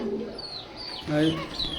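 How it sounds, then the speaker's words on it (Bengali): Racing pigeons bred from imported Saudi Arabian racer stock coo softly in a loft, with a few low murmuring coos and faint chirps close by, and someone speaking alongside. "আমি এখন আপনাদের যে দুটা কবুতর দেখাচ্ছি, রেসার কবুতর"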